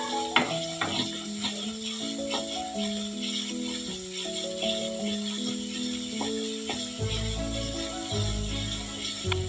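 Cashew paste frying into spiced onion, ginger and garlic masala for a white egg korma, a low sizzle under clinking and scraping of a spoon against the pot, with steady stirring knocks.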